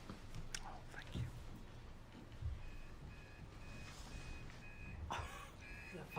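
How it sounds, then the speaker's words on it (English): A faint electronic alarm beeps in a steady repeating pattern in the background of a town selectboard meeting room, under low murmuring talk and rustling. "Someone's alarm's going off."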